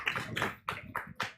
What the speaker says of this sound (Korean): 우리 김인자, 좀 큰 박수로 좀 다시 한번 환영해 주시면 감사하겠습니다